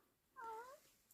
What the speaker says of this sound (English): That's one of our cats. She's very vocal.